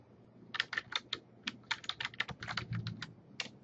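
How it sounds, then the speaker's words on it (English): Computer keyboard typing at a desk while working in a spreadsheet: a quick, irregular run of crisp, close key clicks in short bursts, alone with no voices. "then I want to start typing question 1"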